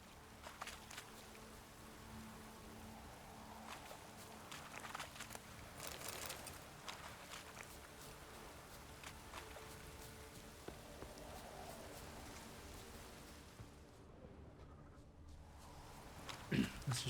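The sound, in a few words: rain falling in video game The Witcher 3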